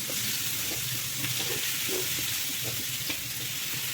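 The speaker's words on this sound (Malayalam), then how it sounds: "ഒരു ഫ്രൈ പാനിലേക്ക് 4-5 ടേബിൾ സ്പൂൺ വെളിച്ചെണ്ണ ചേർത്ത് കൊടുത്ത് ചൂടാകുമ്പോഴേക്കും മാരിനേറ്റ് ചെയ്ത് വെച്ചിട്ടുള്ള കോളിഫ്ലവർ ഇട്ട് കൊടുക്കാം" Marinated cauliflower sizzles steadily as it fries in hot coconut oil in a pan, a continuous close crackling hiss with small pops, no voices over it.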